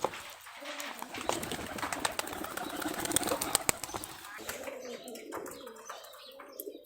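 Ghonobaji rolling pigeons on a rooftop coo softly through a wash of background noise, with scattered sharp clicks and what may be wing flutters.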